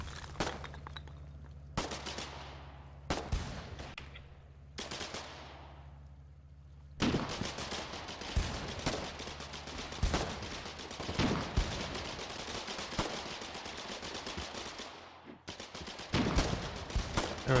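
Gunfire rings out during a fight in the video game Foxhole, with a few separate loud shots and bursts early on, then a long dense stretch of rapid, overlapping automatic fire and explosions.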